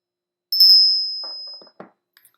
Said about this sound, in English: I am going to open this reading with a loud bell now